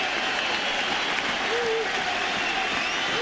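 A large baseball crowd at Fenway Park in Boston cheers and applauds steadily during the 2007 World Series opener between the Red Sox and Rockies, a dense continuous roar of noise throughout.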